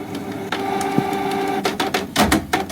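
A photo printer runs a job printing colored 3x4 ID photos, giving a continuous mechanical whir with clicks and sharp rattling feed bursts near the end, close and fairly loud.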